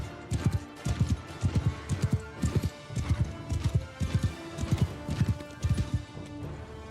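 Horse galloping in the Warhammer Old Realms mod of a video game, a steady rhythmic clip-clop of hooves, close and loud, running continuously with no talking.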